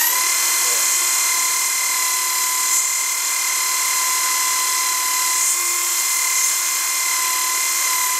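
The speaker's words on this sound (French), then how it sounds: "ça ponce. Et comme je vous dis, c'est du grain très fin." A homemade belt sander, driven by a power drill and fitted with fine-grit paper, gives off a steady, high, droning whine throughout while a voice speaks briefly over it.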